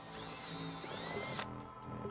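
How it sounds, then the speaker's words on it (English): A power drill with a 5/16 bit bores into the plastic bumper fascia of a 2006 Hyundai Sonata, a close, loud whirring grind that runs steadily for over a second before cutting off, followed by quieter tool handling. "using a 5/16 drill bit, we're gonna go ahead and drill a couple of small holes in the bumper fascia"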